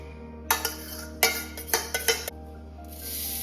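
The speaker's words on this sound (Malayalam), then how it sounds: "ഇതാ തണുത്ത് സെറ്റായിട്ടുള്ള ആ ഒരു കൂവപ്പൊടിയൊക്കെ മിക്സിൻ്റെ ജാറിലേക്ക് ഞാൻ ഇട്ട് കൊടുക്കുകയാണ്" Chilled, set arrowroot powder mixture scooped into a mixer jar in a home kitchen: a few scraping clatters and clinks of a spoon against the jar in short bursts, then a soft hiss, over a low steady hum.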